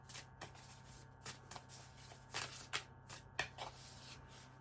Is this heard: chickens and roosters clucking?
no